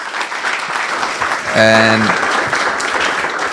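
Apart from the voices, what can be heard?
audience applause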